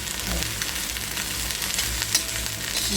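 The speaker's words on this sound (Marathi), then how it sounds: "पूर्ण भाजून मिळणार आता आपल्या भेंडी" Okra (bhindi) fries in a little oil in a pan, giving a dense, steady, close sizzle for a few seconds with a brief louder crackle near the end and no talking.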